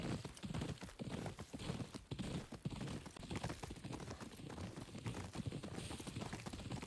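A horse's hooves clip-clop in the video game Ghost of Yotei, a quick, steady run of close hoofbeats lasting the whole stretch with no speech.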